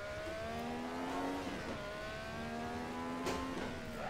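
A Ferrari 312T Formula 1 car in Assetto Corsa on Pikes Peak revs hard, its high engine note sweeping up through gears with shifts, loud and continuous.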